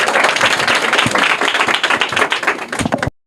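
Audience applause for a correct quiz answer at a Bihar gathering, loud dense clapping that runs steadily for about three seconds and then stops abruptly.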